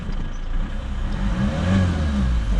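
A rebuilt, previously wrecked AMG Mercedes car drives on a test run, its engine a loud, steady low rumble that swells slightly as it pulls along, close and continuous with no talk.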